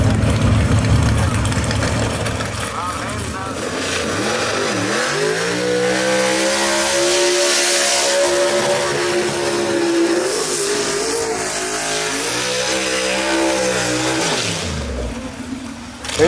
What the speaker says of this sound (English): Two good long burnouts right here